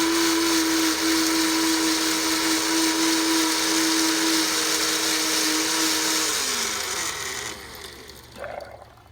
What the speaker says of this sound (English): we're gonna put 1, 2 eggshells, and we will put it in our blender like so